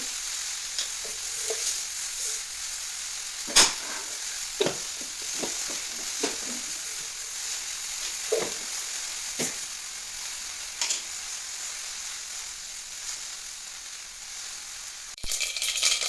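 Mustard seeds crackle and sizzle in hot oil, with sharp pops scattered over a steady hiss, near and clear, and no talk.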